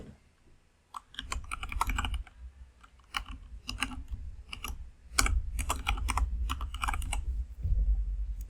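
Email and password typed on a computer keyboard: bursts of crisp, close key clicks in an irregular rhythm, with short pauses between runs of keystrokes and no speech.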